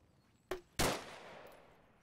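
Gunfire in a military simulation game: two sharp reports, a lighter crack then a louder boom with a long fading tail, heard alone and fairly close.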